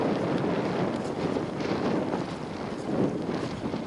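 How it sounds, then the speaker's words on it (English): Gusty crosswind buffets the microphone outdoors, a steady broadband rumble that swells and eases over a few seconds with no talking. "I'm standing in such a weird spot, it's like such a crosswind."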